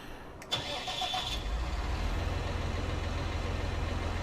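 A large farm tractor in Farming Simulator 19 starts up with a short crank and settles into a steady, low idling rumble that continues evenly to the end.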